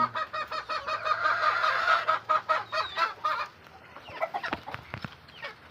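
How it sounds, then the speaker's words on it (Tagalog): A hen clucks in a rapid, rhythmic run of calls, then quieter scattered clucks follow. Nearby and moderately loud. "ito yung inahin natin"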